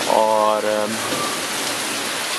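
Heavy rain pours steadily in Islamabad, a dense even hiss throughout, with a brief voice at the start.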